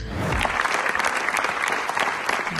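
A large crowd gives a standing ovation at the Cannes film festival premiere of Los Colonos, dense steady clapping that fills the space at full volume without pause.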